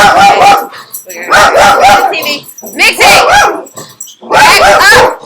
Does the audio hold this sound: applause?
no